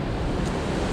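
A steady, close wash of churning water and wind rushes along the hull as the Norwegian Dawn cruise ship cuts through the sea, loud and unbroken.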